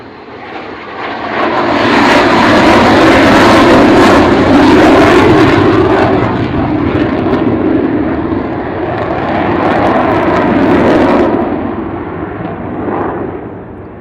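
An Avro Vulcan jet bomber roars overhead at an air display, a loud, broad engine rumble that swells over several seconds, holds, then fades away as it passes.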